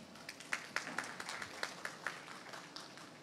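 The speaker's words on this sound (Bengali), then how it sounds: "এই জন্য আমরা সবাই নিজেদের জন্য একটা হাততালি দিতে পারি।" An audience at a gathering applauding itself, a faint, fairly distant patter of hand claps with distinct individual claps standing out in an irregular rhythm.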